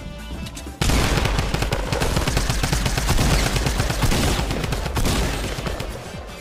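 Rapid bursts of shotgun gunfire in the Fortnite video game, a dense, loud fusillade of overlapping shots lasting several seconds after a brief quieter lead-in.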